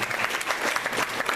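Steady applause from an audience at an eighth grade graduation ceremony, a dense wash of clapping hands sustained evenly for a second or so.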